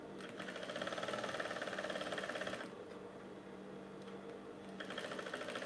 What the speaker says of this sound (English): So I'm stitching the other side of my collar.